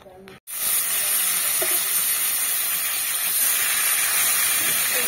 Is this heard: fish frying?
yes